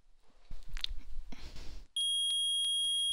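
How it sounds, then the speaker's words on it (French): A metal detector in the Ace Attorney Trilogy video game sounds a run of sharp, evenly spaced electronic beeps after a short burst of game sound effects, loud and clear with no talk over it. "J'autorise l'utilisation du détecteur de métaux."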